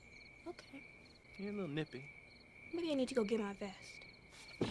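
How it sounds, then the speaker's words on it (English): Crickets chirp steadily in a quiet countryside night, a high continuous trill beneath people talking close by. "They're breathing this fresh country air and just listening to the crickets chirp."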